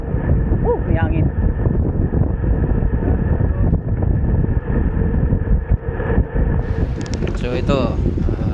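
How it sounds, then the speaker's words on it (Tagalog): Wind rushes steadily across the microphone while cycling on a long-distance road ride, a constant loud broadband buffeting with brief whistling tones near the start and end. "May hangin."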